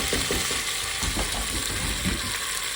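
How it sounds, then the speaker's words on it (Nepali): Ginger garlic paste frying in a pan, a dense continuous sizzle with stirring scrapes and clinks, close and steady throughout. "अदुवा लसुनको पेस्ट हालेर यहाँ फ्राई गरिन्छ।"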